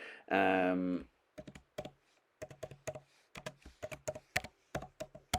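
Rapid, uneven keystrokes on a computer keyboard as text is entered with the text tool in Affinity Photo, crisp close clicks in short bursts after a brief voiced sound at the start.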